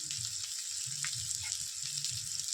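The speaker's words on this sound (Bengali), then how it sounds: "দিয়ে ভালো করে নাড়াচাড়া করে নিতে হবে।" Egg curry masala seasoned with salt and turmeric sizzles steadily in a hot pan while being stirred, a continuous close frying hiss with soft scraping underneath.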